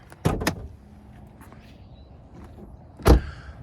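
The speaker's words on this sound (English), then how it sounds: "Pop this latch hood down here" The hood latch on a 2012 Mercedes E63 wagon gives two quick mechanical clunks, then a pause, then one louder, sharper pop, each close and distinct against near silence.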